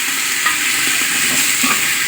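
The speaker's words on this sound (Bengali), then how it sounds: "এটা আমি ঢেলে দেবো সবজিটা" Boiled vegetables poured into a pot of fried spices, setting off a steady, loud sizzle with scraping stir sounds, continuous and close.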